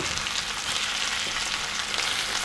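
Potatoes fry in a pan on a stovetop, browning for breakfast, giving a steady, dense sizzle that holds even and loud throughout with no voices.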